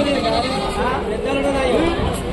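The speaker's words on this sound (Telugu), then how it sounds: "లోకల్ మేకలు" Goats bleat in wavering cries at the Rajarampalli village livestock market, loud and close under constant crowd chatter and talking.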